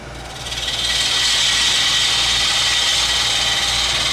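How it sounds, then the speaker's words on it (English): A spindle gouge cuts into a wooden platter blank spinning on a lathe, a steady, close, rasping hiss of shaving wood that starts about half a second in and holds evenly to the end. "I've got a spindle gouge here, and I'll cut that in."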